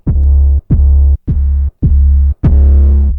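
An 808 bass played on an MPC Key 37 Gen 2 through a distortion plugin: five loud, booming notes in a row, each sustained with gritty harmonics, the last ringing out longest.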